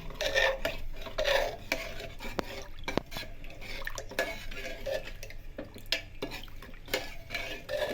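A spoon stirs jaggery and bajra (millet) flour together in a pot for warm rab porridge, with close, steady scraping, soft clinks against the metal and a faint wet churn.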